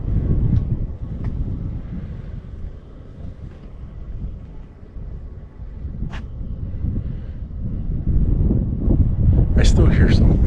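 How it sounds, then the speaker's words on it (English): Steady wind gusts buffet the microphone outdoors along a roadside near Chinle, a continuous low rumble that swells louder toward the end, with a few faint brief higher sounds over it. "I'm trying to get out of this wind."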